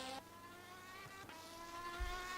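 A racing engine drones steadily with sustained harmonic whine, an Aston Martin GT3 car in rFactor 2 at Laguna Seca heading toward the corkscrew, with a low thump near the end and no voices.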